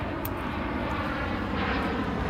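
An airplane passes overhead outdoors, a broad, steady roar that swells slightly toward the end and fills the whole stretch without talk.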